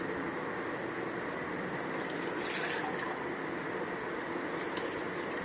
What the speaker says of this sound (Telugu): దీంట్లో కొంచెం వాటర్ కలిపేసుకుని